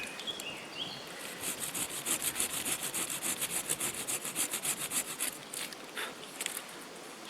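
Hand saw cutting a shallow notch in wood for a camp pot hanger, a close run of quick rasping back-and-forth strokes at a steady rhythm.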